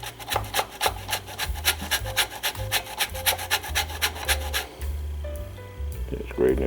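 Lemon peel is grated against a grater in quick rhythmic scraping strokes, close and steady, with low thumps between strokes and a brief pause near the end.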